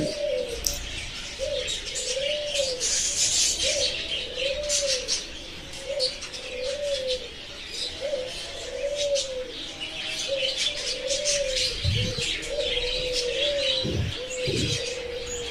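At a bird farm, caged zebra and Bengalese finches chirp over a repeating pigeon- or dove-like coo, a busy mix of many nearby birds calling continuously.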